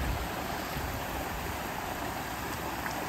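Water from a small pond cascading down a man-made stone channel in the hills above the Longdendale reservoirs, a steady broadband rushing wash that stays constant and close throughout.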